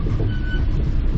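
A Metro-North train rumbles along the track near the Tappan Zee Bridge, a loud, steady low roar with faint wheel hiss throughout the brief moment.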